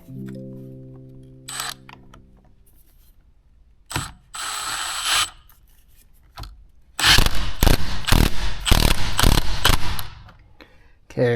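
A ratchet tightens a bolt inside the cabin of a fifth-generation Camaro ZL1, with brief clicking bursts followed by a rapid, loud run of close ratcheting clicks.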